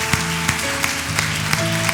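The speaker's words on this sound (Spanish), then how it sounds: "Vamos a darle un fuerte aplauso al Señor" Congregation applauding in a church service, a steady wash of clapping with sharper periodic accents roughly every third of a second, over sustained tonal music or organ-like notes.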